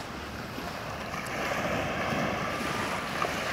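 Waves wash steadily onto Browns Beach along Carlisle Bay in Barbados, a soft continuous surf hiss blended with light wind noise, fairly faint and with no voices.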